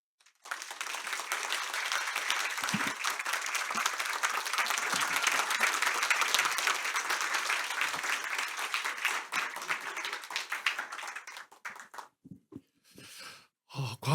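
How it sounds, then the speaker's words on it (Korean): A lecture audience at a university forum claps to welcome a professor, a full, steady round of applause lasting about eleven seconds before thinning out into a few scattered final claps. "오늘의 연사이신 한성열 교수님을 박수로 환영해 주시기 바랍니다"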